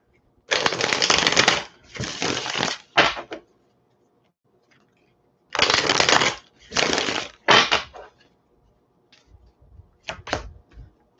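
Tarot cards riffle-shuffled close by in several bursts, two long papery runs, a pause, then more runs and a few short flutters at the end, with no talking.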